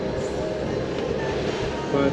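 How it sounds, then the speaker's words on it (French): A sailboat's engine runs at about 2000 rpm off Conception Island in the Bahamas, a steady low droning rumble mixed with wind and wave noise, with a voice talking over it. "Un petit peu de moteur à 2000 tours pour nous aider."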